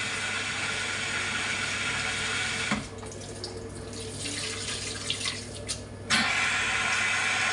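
Food rinsed under a running kitchen tap, a steady rush of water whose sound dulls and splashes for a few seconds as something is held in the stream, then returns to a full flow, with no talking.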